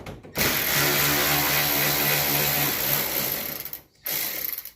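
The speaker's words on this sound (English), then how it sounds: "Let's pull a couple more screws out." Screws are backed out of the dashboard of a 1980 Pontiac Trans Am with a close, loud, buzzing ratchet-like whir that runs for several seconds, breaks off briefly and then starts again.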